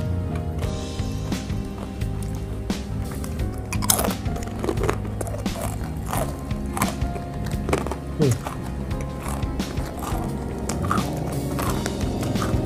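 Sweet banana chips from Malang crunched and chewed close to the mic, with repeated sharp bites and crackles spread through a steady bed of background noise; a voice speaks briefly.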